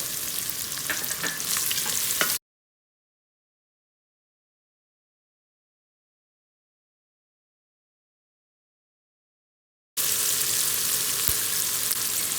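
Onions fry with salt in an Instant Pot, a close, steady sizzle with stirring scrapes that cuts out into total silence for several seconds and then resumes just as before.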